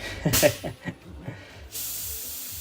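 Short bursts of fine hissing from an airbrush spraying under-thinned paint, then a steadier continuous hiss near the microphone after a brief pause.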